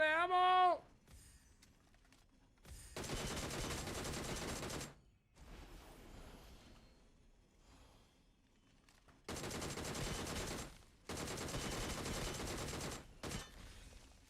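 Video game gunfire, long sustained bursts of rapid automatic fire from a DP machine gun, loud and close, broken by quieter pauses, with a short rising electronic tone at the start.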